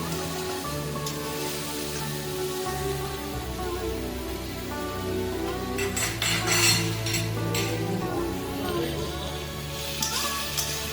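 Tiger prawns stirred with ginger-garlic paste in a pan for a spicy Bengali prawn curry, soft sizzling with occasional metallic spoon clinks and scrapes over a humming, tonal background, quiet overall.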